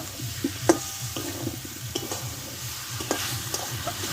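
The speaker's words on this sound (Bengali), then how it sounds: "এবার এতে আমি কষে রাখা আলুগুলোকে আমি দিয়ে দেবো দিয়ে একসঙ্গে আমি আরও এক মিনিট ভালোভাবে কষে নেব" Potatoes and spices being sautéed in a pan for Bengali-style alur dum, with steady stirring and scraping over a soft sizzle and a few sharper utensil knocks, close and moderately quiet, no talking.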